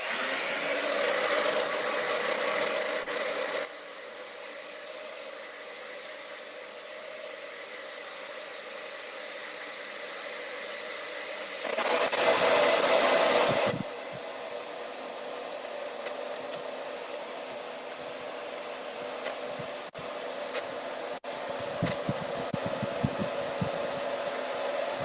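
A hair dryer blasts steadily to dry paint on a potato print, a loud continuous airy whoosh with a brief surge in intensity midway and small clicks and shifts near the end.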